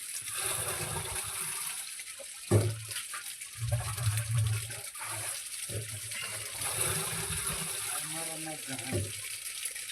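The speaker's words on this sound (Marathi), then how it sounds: "आमच्या इथे पाणी भरायचं काम चाललंय आता" Running tap water splashes steadily into a container, with brief louder gushes and a voice talking over it at moments.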